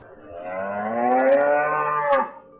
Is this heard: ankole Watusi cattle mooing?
yes